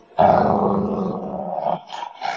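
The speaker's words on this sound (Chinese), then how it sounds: "一道凶狠的犬吠响彻3界" A fierce dog gives a deep, sustained growling snarl up close, followed by two shorter rough bursts, loud and alone as a dramatic sound effect.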